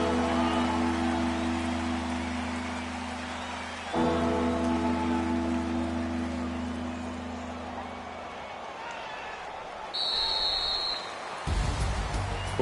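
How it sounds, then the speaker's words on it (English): Steady rain hiss during a PS4 football video game, a broad wash under sustained droning tones, with an abrupt crowd-like swell later; some voices are faintly present. "the forecast called for rain throughout the entire game, and we got rain throughout the entire game"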